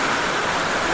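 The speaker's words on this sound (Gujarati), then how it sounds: "અવાજ તો સાંભળો તમે વરસાદનો." Heavy rain pours down outside a village home, a dense, unbroken roar of falling water that stays loud and even for the whole short stretch, with no voices.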